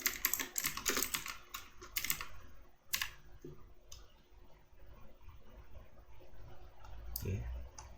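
Rapid close computer clicks, mixed with keyboard typing, come in dense bursts at first and then thin out to sparse single clicks, with a faint voice near the end.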